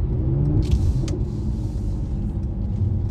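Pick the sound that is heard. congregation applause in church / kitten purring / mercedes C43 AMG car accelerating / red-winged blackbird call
mercedes C43 AMG car accelerating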